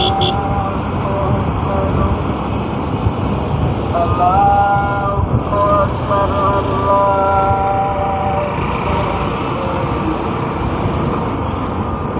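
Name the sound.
CNG auto-rickshaw and road traffic behind a motorbike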